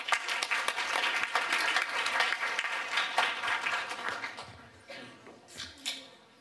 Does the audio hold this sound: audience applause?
yes